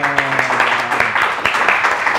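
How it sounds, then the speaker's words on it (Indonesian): An audience at a coffee shop talk event claps in a brief, fairly loud burst of applause, with a voice faintly under it. "Tepuk tangan dong."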